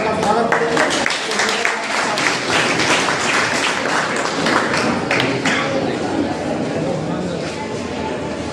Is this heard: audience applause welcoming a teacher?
yes